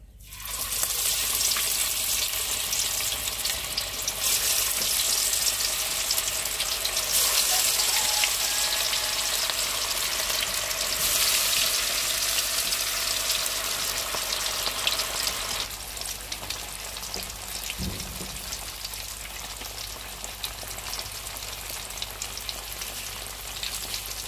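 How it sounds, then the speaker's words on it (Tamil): Fish frying in hot oil while a fish curry is prepared, a steady loud sizzle and crackle filling the whole stretch and easing slightly toward the end, with no talking. "எண்ணெய் சூடாயிட்டு மீன் எடுத்து போட வேண்டியதான்."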